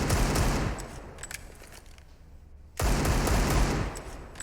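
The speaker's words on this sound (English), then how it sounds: "The natural born killer with the Deagle, just spamming away." Rapid, dense Desert Eagle pistol fire in a Counter-Strike esports match, loud bursts filling the first second, a quieter stretch with a few scattered shots, then another loud sustained volley to the end.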